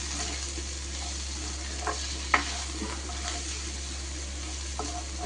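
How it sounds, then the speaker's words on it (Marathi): Okra cooked with onion, tomato and crushed peanut powder is stirred in a pan, giving soft scraping strokes and a few light taps over a steady low frying hiss and background hum. "आणि आता मस्तपैकी छान याला आपण मिक्स करून घ्यायचं आहे."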